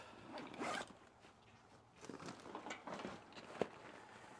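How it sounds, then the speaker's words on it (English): A bag compartment is zipped shut in a couple of quick, scratchy zipper pulls, fairly close and quiet, followed by a sharp click near the end. "Zip them up."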